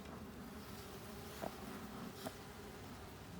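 Honey bees humming around an opened backyard hive in Portsmouth, NH, a faint steady droning buzz with a couple of soft knocks, heard close but quiet, with no talking.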